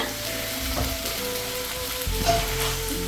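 Food sizzles and crackles steadily while frying in a pan in a home kitchen, a continuous close hiss with a few stirring clinks.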